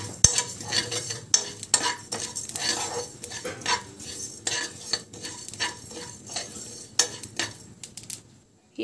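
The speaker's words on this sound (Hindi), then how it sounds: "अब ये सबको हम लोग रोस्ट करते हैं।" Black pepper and ajwain roasting in a pan, with a utensil scraping and stirring in repeated close clinks and scrapes over a faint dry sizzle, no talking.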